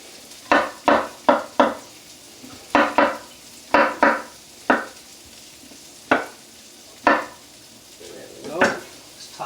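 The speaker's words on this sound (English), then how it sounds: "Love that sizzle, right?" Roughly cut mushrooms land in a hot frying pan, with a series of sharp sizzling bursts and clattering stirs as the pan is shaken, about a dozen close hits spread irregularly.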